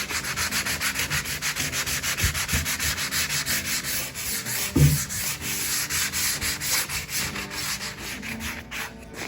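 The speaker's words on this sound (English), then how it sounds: "So we got it sanded pretty well" Wood being sanded for a rustic mirror: repeated rhythmic rasping strokes, close and fairly loud, with a brief louder bump midway and no talk.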